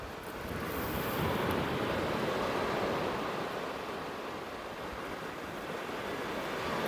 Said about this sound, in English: Wind's changed direction as well, so it's now blowing straight towards me off the sea